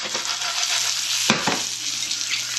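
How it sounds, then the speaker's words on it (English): A spoon stirs mayonnaise and ketchup together in a bowl, making a continuous soft wet scraping with a sharper clink of utensil against the bowl near the middle. "we want to stir that up till it has a little pink tint to it"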